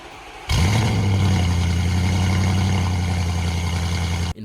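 A 2021 Audi RS7's twin-turbocharged 4.0-litre V8 suddenly starts and settles into a loud, rumbling idle with a deep burble, then cuts off abruptly at the end.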